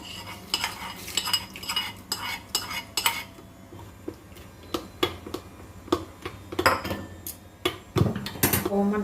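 A spoon clinks and scrapes against a steel pot in quick uneven strokes as a tempering is mixed into a pesarattu upma mixture, with a faint sizzle underneath and no talking.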